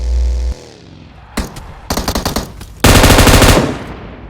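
Loud bursts of automatic gunfire in a mobile battle royale shooter, starting with a short rattle, then a rapid string of shots and a sustained dense volley close up, with no talk.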